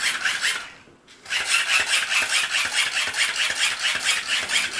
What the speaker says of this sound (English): We need your crank power. Crank faster.